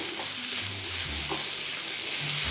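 Agretti sauté in a hot pan, a steady, close, even sizzle and hiss with faint stirring movement underneath, and no voices.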